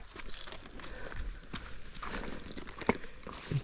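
A carabao at a stream moves with soft, irregular hoof steps on wet ground, faint and fairly close, with a brief splash or knock near the end.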